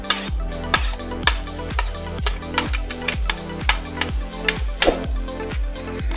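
A spoon stirs and mixes spiced eggplant bharta with garam masala in a pan, making repeated sharp scraping clicks at a brisk, uneven rhythm over a soft sizzle.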